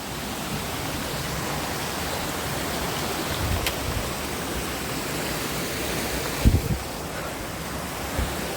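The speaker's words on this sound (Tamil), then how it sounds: "தண்ணியாக வந்துக்கிட்டே இருக்குங்க." Steady rushing water flows across a forest road at night, a continuous broadband wash heard up close with a few brief thumps, no talking.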